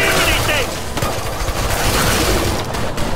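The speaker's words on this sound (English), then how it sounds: "Oh my god, this pistol kicks." Rapid pistol gunfire in the video game Killing Floor 2, a dense barrage of loud shots running continuously for the whole stretch, with a voice briefly heard over the action.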